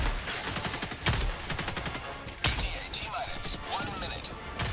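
Video game gunfire crackles in rapid bursts and heavy reports, with sharp impacts standing out from a loud, dense mix of action sounds.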